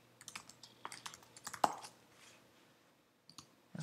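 Keys clatter on a computer keyboard in quick, close, fairly quiet bursts of typing, pausing briefly before a few more presses at the end.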